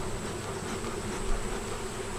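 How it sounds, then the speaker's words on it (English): A dense, steady buzz of many honey bees crowding the frames of a hive, a continuous hum with no breaks. Fairly close, with no one talking. "there's a lot of bees in there."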